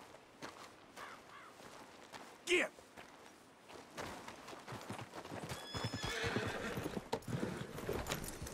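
Horse hooves clip-clopping at a walk with a loud whinny partway through, from a horse in the Western game Red Dead Redemption 2, amid ambient game sounds and someone talking.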